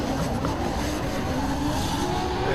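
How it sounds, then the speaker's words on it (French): Rally race cars, a Subaru BRZ and a Nissan, run in a close duel on a French rallycross circuit at Val d'Argenton, with loud, steady engine roar and revving close by and no gaps. "un duel de japonaise, la Subaru face à la Nissan"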